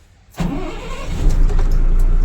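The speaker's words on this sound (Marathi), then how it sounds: "गाडी स्टार्ट करूया आपण आता" A 16-tyre ethanol tanker truck engine cranks and turns over, then settles into a loud, steady rumbling idle close by.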